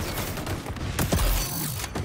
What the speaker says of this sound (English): Grenades away!